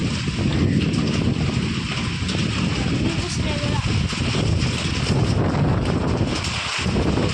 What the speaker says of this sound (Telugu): ఒకసారి మమ్మల్ని కూడా దోసేస్తుంది గాలి